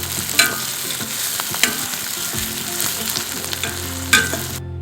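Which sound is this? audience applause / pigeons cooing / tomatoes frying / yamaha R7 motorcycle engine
tomatoes frying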